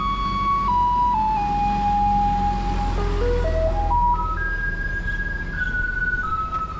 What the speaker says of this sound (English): When you hear that noise, it's the garbage truck.